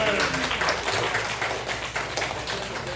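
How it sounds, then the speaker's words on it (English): Corporate audience applause after an impromptu card magic trick, steady close clapping filling the short stretch with a little background voice. "Give him a big round of applause."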